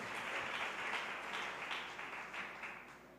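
A church congregation claps loudly together during a preaching service, a dense, steady wash of applause sustained throughout with slight swells and no talking over it.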